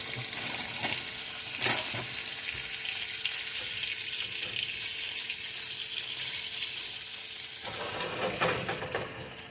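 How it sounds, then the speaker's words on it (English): Bacon frying in pepper-infused bacon grease over medium heat, a continuous close crackling sizzle with a sharp pop and a brief burst of louder spattering near the end. "And we're going to cook this bacon."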